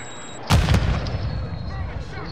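Gunfire in Call of Duty: Modern Warfare II, a sudden loud burst of two or three close booming shots followed by a lingering rumbling tail, with players talking faintly around it.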